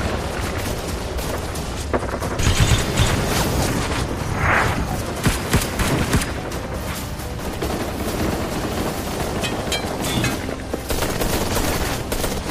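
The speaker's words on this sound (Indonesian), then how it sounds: "Puluhan musuh menembaki tim dari atas bukit." Battle gunfire from dozens of enemies firing down from a hill in an action film, a dense, loud fusillade of shots and bursts with booming impacts that runs throughout, with no talk.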